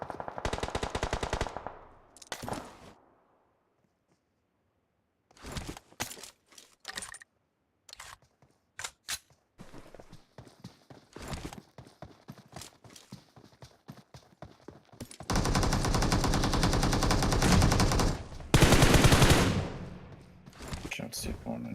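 Gunfire in a competitive video game match: bursts and rapid strings of shots, some isolated cracks, and dense sustained volleys near the end, with stretches of near silence between.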